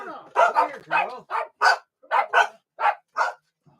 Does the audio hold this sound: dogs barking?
yes